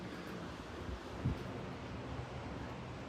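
Wind gusts hard on the coast during a high-barometer nor'easter, a steady loud roar of rushing air buffeting the microphone, with a brief thump near the middle and no voices.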